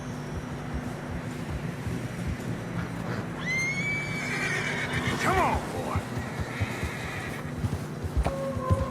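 Horses in Red Dead Redemption 2 whinny loudly in a snowy setting over a steady bed of clip-clopping hooves and ambient wind, with someone briefly speaking.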